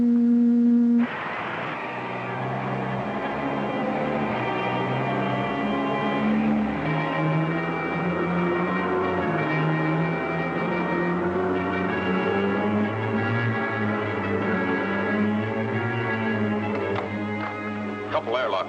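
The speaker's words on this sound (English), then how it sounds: "Roger. Tractor beam up" A sustained electronic whine of a sci-fi spaceship tractor beam hums under clipped radio-style dialogue aboard a ship docking with a space station, with steady pitched tones shifting slowly throughout.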